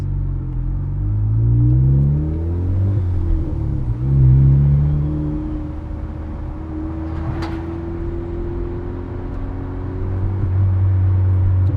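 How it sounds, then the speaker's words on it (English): A Porsche 997 with a swapped Honda K20 engine runs at idle, giving a steady close low rumble whose pitch wavers with small blips of throttle, plus a faint sharp click midway. "It runs so good. Like, it idles nice."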